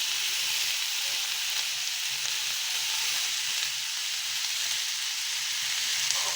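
Seasoned bitter gourd (karela) pieces fry in a hot pan, giving a loud, steady, dense sizzle that holds evenly throughout, close up with no talking.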